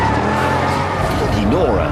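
A BMW 760 or Mercedes S63 luxury sedan driven hard on a test track in Sport Plus mode, engine roaring loud with a rising then falling rev sweep, tire noise underneath, a voice talking over it.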